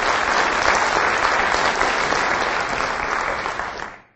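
An audience at a university State of the University address applauds steadily for about four seconds, a dense, even clapping that fades out at the end, with no voices over it.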